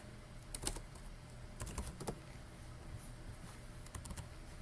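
Keys on a computer keyboard tap in short clustered bursts while code is entered for a Windows Phone 8 app, soft and fairly close over a steady background hiss.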